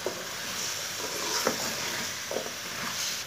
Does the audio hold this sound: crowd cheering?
no